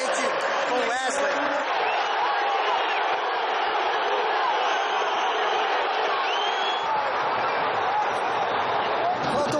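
A large crowd roars in a Brazilian football stadium during the second half, a dense, steady wall of noise with scattered shouts and whoops, angry at a player and loud throughout.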